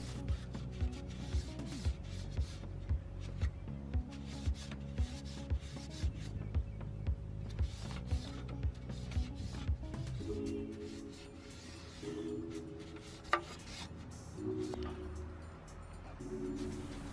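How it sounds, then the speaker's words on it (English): Steady, close rubbing and wiping strokes while dust is cleaned off the rear fan inside a dirty desktop computer, with a regular rhythm of short scrubbing passes for most of the span. "Wiping down the rear fan really quick."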